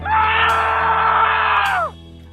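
A single loud, sustained scream rings out for nearly two seconds, then cuts off abruptly.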